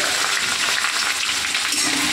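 Chopped onion hisses and crackles in hot oil in a pan, a dense, continuous close-up frying sound that holds steady from start to finish.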